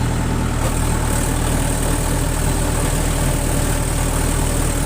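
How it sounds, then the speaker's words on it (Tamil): A tractor engine running in low second gear with the PTO engaged, set for plowing a field: a loud, constant low rumble with steady vibration, close and unbroken throughout. "லோ செகண்டில் பிடிஓலாம் போட்டாச்சு இப்போ வந்து உழவு ஓட்ட போகிறோம்"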